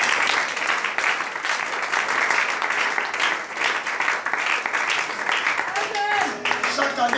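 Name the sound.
church congregation applauding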